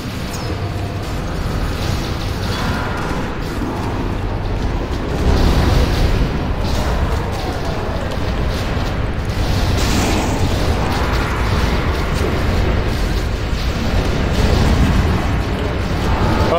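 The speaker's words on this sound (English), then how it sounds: "Fuck, he's got a rocket launcher!" Heavy rumbling explosions and battle din from Halo SPV3 on Legendary, a loud continuous wash of booms and mechanical clatter with no clear gaps, sustained for the whole stretch.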